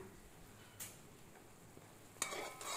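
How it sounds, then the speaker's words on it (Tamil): Eggs fry with onion and green chili in a pan, a faint steady sizzle broken by a couple of sharp spatula scrapes and clinks against the pan. "முட்டையோடய வெங்காயம் பச்சை மிளகாவை சேர்த்தாச்சு நல்லா வதக்கிக்கலாம்"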